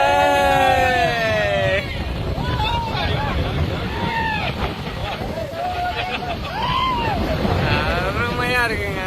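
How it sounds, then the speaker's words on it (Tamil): Wind gusting at Courtallam, the waterfall hill town, roars steadily close to the microphone, mixed with rushing water and a crowd's babble while people talk over it throughout. "எப்படி காத்து அடிக்கிறது மட்டும் பாருங்க"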